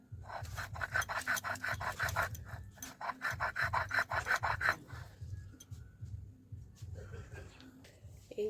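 Neem leaves ground on a traditional stone slab (shil), a rough rhythmic rasping and rubbing of stone on stone in quick back-and-forth strokes, close and moderately loud, then slowing into fainter scrapes.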